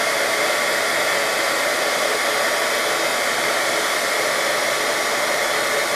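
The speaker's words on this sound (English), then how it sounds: "you're just going to move it over the image until you get all the embossing powder heated" A heat tool blows steadily and loudly throughout, melting embossing powder on glossy cardstock, a constant broadband hot-air roar with no pauses and no voices.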